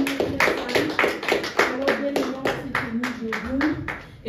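Congregation applauding in a church service, a steady run of dense hand claps with overlapping voices and singing-like tones underneath.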